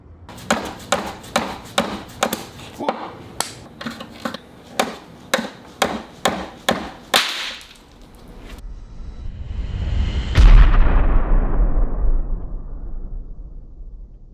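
A fire piston is struck repeatedly, a quick series of sharp hard knocks in a steady rhythm, then a rising rushing roar swells into a deep bang as gas ignites, fading slowly afterward.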